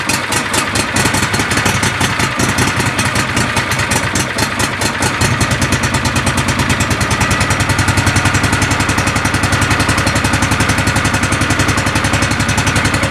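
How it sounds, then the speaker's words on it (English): A John Deere Gator utility vehicle engine idles after throttle body replacement, a close, loud, even putter that settles into a steadier, smoother rhythm partway through, with no talking. "Now notice how well it idles."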